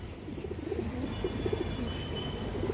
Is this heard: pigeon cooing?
yes